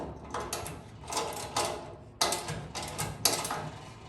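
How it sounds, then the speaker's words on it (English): A half-inch wrench tightens a nut on a 90-quart wheeled boiling pot with a series of metallic ratcheting clicks and clanks, about five quiet bursts spaced irregularly and close by. "So get your 1/2 inch wrench. You're just going to tighten that up just a little bit."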